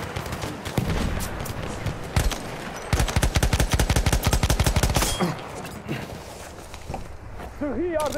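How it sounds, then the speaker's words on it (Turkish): Sustained machine gun fire in Battlefield 1 with a Fedorov Avtomat, a dense run of rapid, loud shots with brief breaks amid battlefield noise, while game voices speak over it. "Makinalı tüfek!"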